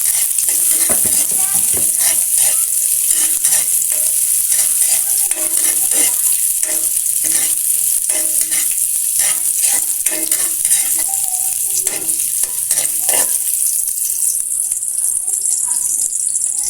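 Garlic and onion sautéing in a hot pan for chicken adobo, a loud, steady sizzle running throughout, broken by frequent scraping stirs of a utensil against the pan.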